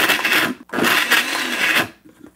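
A blender whirring loudly through mango ice cream, the motor straining with a thick grinding roar, cutting out briefly, then roaring again before stopping as a spoon pushes the mixture down.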